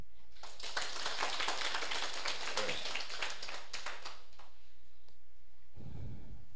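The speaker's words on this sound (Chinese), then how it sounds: "掌声鼓励。" Applause from the audience at a Taiwanese administrative seminar: dense, crackling clapping for about four seconds that thins out into scattered claps and then stops, followed by a short low rumble.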